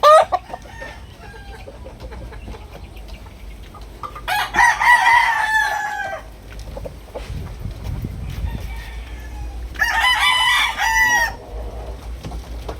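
A three-year-old backyard rooster in Cavite crows loudly twice, several seconds apart, with soft clucking and low farmyard noise in between.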